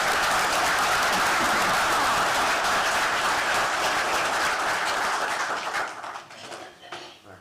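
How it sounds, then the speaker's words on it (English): An audience applauds 15-year award recipients at an Arkansas Game and Fish Commission gathering, with loud sustained clapping from a crowd that thins and fades out near the end. "why don't we give them a big round of applause"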